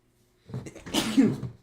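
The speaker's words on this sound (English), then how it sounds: "And I'm going to sneeze." A single close sneeze, with a short intake of breath leading into a sharp, noisy burst.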